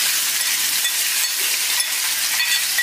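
Marinated chicken pieces, coated in curd, fry in hot sesame oil with a loud, steady, close hiss of sizzling that runs unbroken throughout, with no speech.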